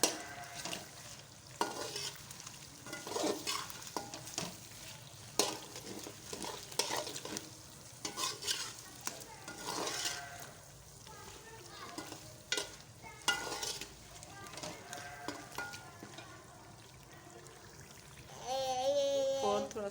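Chicken sizzles and fries in a pan while about half a cup of cream is stirred in, giving steady crackling sizzle with repeated scraping stir strokes throughout, loud and close.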